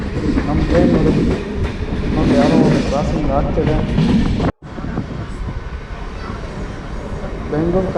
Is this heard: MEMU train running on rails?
yes